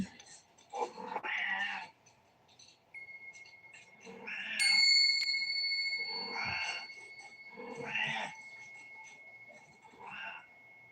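A pet cat meows several times in short, separate calls spread across the stretch, fairly close and moderately loud, with no talking over them.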